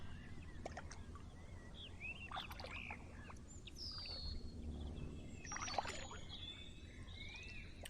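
Gentle kayak paddle strokes dip quietly into calm water near Tonbridge, Kent, soft splashes under a steady wash of birdsong, chirps and calls, with no one speaking.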